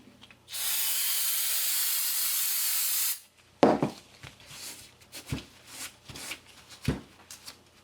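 Brake cleaner sprays in one continuous, loud hiss for about three seconds onto a power steering pump from a 1994-97 Honda Accord, followed by scattered soft rubbing and wiping sounds.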